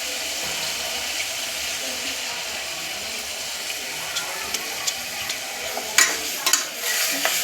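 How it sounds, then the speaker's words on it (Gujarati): Tomatoes, chili powder and turmeric sizzle in hot oil for a bitter gourd curry, a constant bright hiss, with a few sharp spoon scrapes and clinks against the pan toward the end. "ટામેટા બરોબર હલાવી લઈશું"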